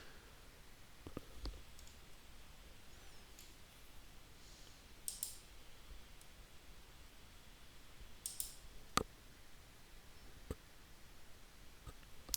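Sparse, faint mouse clicks sound while ctrlX CORE industrial control software is operated, single sharp ticks scattered irregularly over a quiet background.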